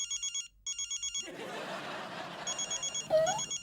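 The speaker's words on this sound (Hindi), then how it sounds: "तुम्हारे फ़ोन की घंटी बज रही है" A telephone ringing in repeated electronic bursts, briefly interrupted while a man laughs and chuckles, then the ringing resumes close by.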